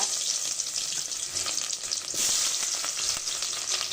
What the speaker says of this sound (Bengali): হাঁসের মাংস ভুনা করার জন্য এখানে পাতিলে আমি তেল গরম করে নিয়েছি